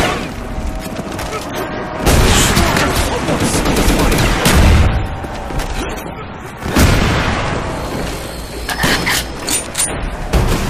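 Gunfire and explosions in a Call of Duty Zombies match on the Ascension map, loud dense bursts of shots and booms with mechanical clatter, while players talk over it.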